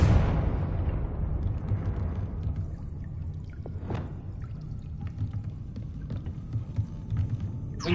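Confringo blasting spell in Hogwarts Legacy bursts into a loud explosion that decays into a rumbling, crackling tail, followed by smaller pops and debris sounds.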